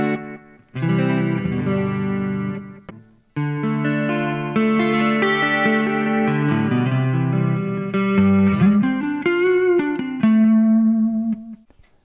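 Electric guitar notes and chords ring out through a delay pedal set short, a lush delay that smears into a reverb-like wash, played alone.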